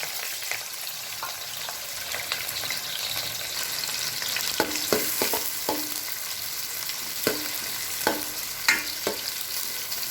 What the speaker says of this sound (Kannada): ಎಣ್ಣೆ ಕಾದಿದೆ, ಈರುಳ್ಳಿ ಹಾಕೋಣ.